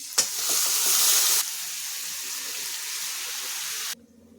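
Cooked black urad dal tips into a hot garlic and green chili tempering with turmeric, setting off a loud burst of sizzling that settles into steady frying before cutting off abruptly near the end.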